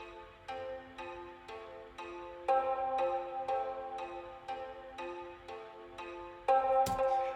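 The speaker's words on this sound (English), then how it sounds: "here is the sound of this guitar" Evenly paced plucked notes from a sampled harmonic guitar ensemble (Moon Guitar Ensemble) ring out in a steady pattern, with a few accented louder notes standing out from a sparse ensemble texture.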